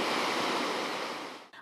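Ocean waves crashing on the shore at Kangaroo Island, South Australia, a short, loud, continuous roar of surf that fades out near the end.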